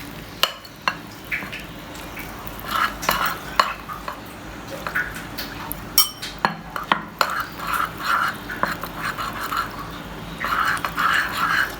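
A spoon stirs thin crepe batter made with milk in a bowl, giving repeated scraping swishes and light clinks against the bowl that are fairly close and keep going without speech.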